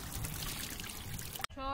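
Water is poured over someone's head during a bath: a steady, close rushing splash that cuts off abruptly, followed by a brief voice.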